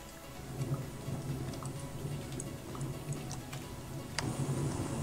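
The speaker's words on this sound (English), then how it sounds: "Are you toggling the rainfall?" Rain patters steadily in a video game while low thunder rolls beneath, with scattered ticking drops and a sharp click near the end, all fairly faint and without talk.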